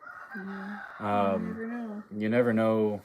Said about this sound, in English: Can you guys hear the roosters crowing outside?